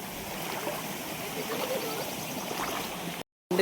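Steady rushing water of a forest stream swollen after rain in the Konkan flows throughout, a broad continuous wash, ending in a brief dropout.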